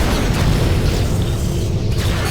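A turret blowing up in the space combat game FreeSpace 2: a loud, sustained explosive rumble with heavy low-end boom and crackling debris, steady for a couple of seconds with no talk.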